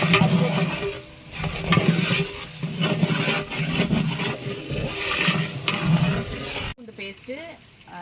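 Ginger garlic paste frying in a large pot of mutton biryani for forty people, stirred with rhythmic scraping strokes over a crackling sizzle, with someone talking throughout before a short quieter stretch at the end.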